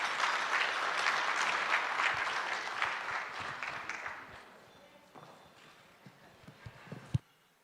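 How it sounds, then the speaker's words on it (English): Applause from a gala audience at a tenth anniversary event, dense clapping that is fairly loud at first and then fades over several seconds, ending in a few scattered claps. "A round of applause, please."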